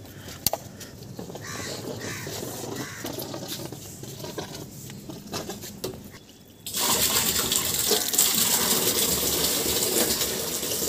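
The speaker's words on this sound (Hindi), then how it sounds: "पहले ये ड्राम भर दूंगा, फिर ये बाल्टियाँ भर दूंगा मैं।" Water pours from a tap into an empty drum at home, starting as a loud, steady rushing gush partway through after quieter clattering and scattered knocks nearby.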